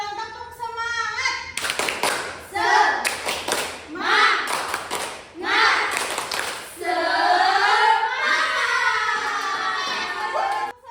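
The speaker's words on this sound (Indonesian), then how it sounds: "Kita tepuk semangat." A fifth-grade elementary class in Indonesia does a rhythmic spirit clap, with bursts of sharp group handclaps in a set pattern alternating with children chanting together, followed by sustained lively class voices.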